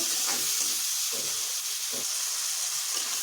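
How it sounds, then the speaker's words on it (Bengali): Tomatoes sizzle steadily in a hot pan, a constant hiss with a few soft scraping stirs underneath. "এটা ভালো করে একটু ভেজে নেব"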